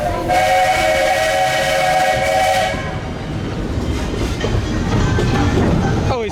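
A small amusement park train at Cedar Point rolls along with a sustained whistle tone for a few seconds, then rattling and clattering wheels continue on their own.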